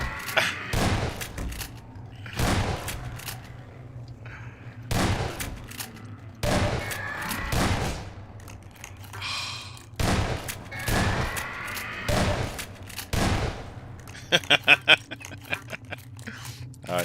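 Repeated heavy shotgun blasts from Half-Life 2, fired in loud separate bursts every second or two over game ambience and faint talk, with a quick rattling volley near the end.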